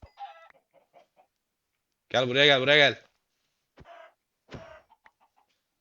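Chicken clucking in the Minecraft video game, one loud burst of clucks in the middle, with a man calling to the birds before and after in short phrases.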